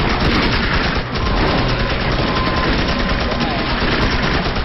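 Rapid, dense bursts of gunfire in the video game Magicka crackle continuously with game-like compression, one brief dip, no clear talking.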